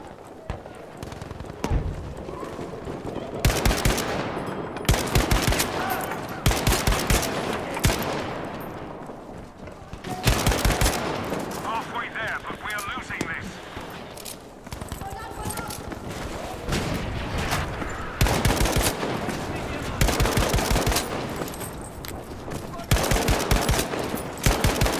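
Automatic gunfire from Battlefield 5 on Operation Underground comes in repeated rapid bursts separated by short pauses, loud and close, with a voice talking over parts of it.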